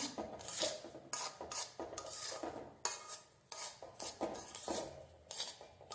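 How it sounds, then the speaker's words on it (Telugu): Semolina dry-roasting in a pan for rava laddu, stirred continuously: soft, close scraping and rubbing strokes of a spatula against metal in an irregular rhythm, quiet overall and with no talk. "ఒక టెన్ మినిట్స్ వరకు మనము రవ్వను బాగా వేయించుకోవాలి"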